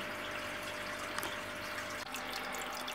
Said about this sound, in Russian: Сейчас я заливаю этот чай в аквариум.